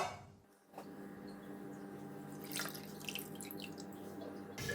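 Coconut milk drips and trickles from grated coconut through a coffee strainer, a close, quiet, steady run of liquid dripping after a brief pause at the start.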